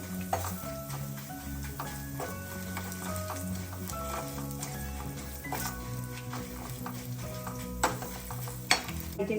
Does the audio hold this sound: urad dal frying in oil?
yes